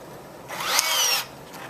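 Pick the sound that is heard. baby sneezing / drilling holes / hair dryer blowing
drilling holes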